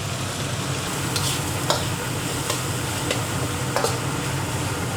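Mushroom, tomato, onion, carrot and baby corn stir-frying in a hot pan, a steady close sizzle with occasional light scrapes and taps of the utensil.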